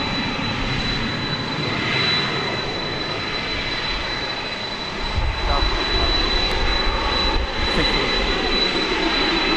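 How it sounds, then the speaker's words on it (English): An Airbus A321 jet arriving at DFW Airport at night gives a steady, loud engine roar and broad rumble that swells a little partway through, with no talk over it. "Flight 1617 arriving from San Diego, California, in Airbus A321."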